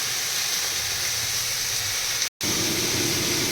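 Small gram flour fritters fry in hot oil, a dense, steady sizzling hiss, loud and close, with a brief abrupt dropout near the end before the sizzle continues.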